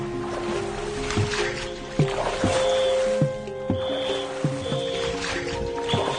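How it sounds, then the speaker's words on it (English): A boat moves down a river in China, with a steady engine hum and periodic splashing or thumping sounds, plus a few brief higher tones. "The boat is making its way down the river."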